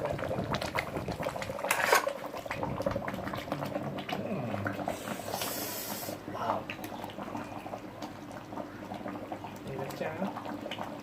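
Thai massaman chicken curry simmers and thickens in a pot, a soft, steady bubbling close by, with occasional utensil clinks and a person talking over it throughout.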